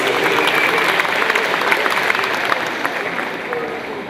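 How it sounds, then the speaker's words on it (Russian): Audience applause at an awards ceremony as a recipient is introduced, a steady dense clapping from a full hall that fades slightly toward the end. "Под ваши аплодисменты."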